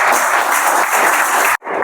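Loud, dense clapping from a crowd at a business plan presentation, a continuous roar of hands that cuts off abruptly and then briefly resumes.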